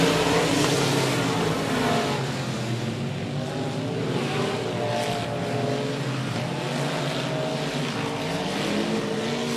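Short track super series race cars roar around 105 Speedway, a dense, loud engine drone rising and falling as the field runs down the back straightaway, continuous with no voices.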